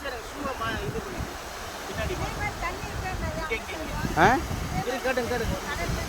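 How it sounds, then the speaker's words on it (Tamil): Steady sea surf and wind rush along a shoreline, a continuous wash underneath people talking nearby. "கடல் தான்."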